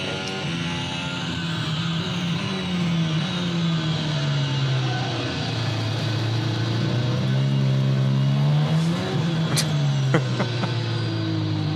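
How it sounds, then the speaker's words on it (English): Formula 1 race car engine droning at high revs, its pitch sliding up and down as the car passes and is chased by a drone, steady and loud throughout with no talk. "So this drone's following the F1 car."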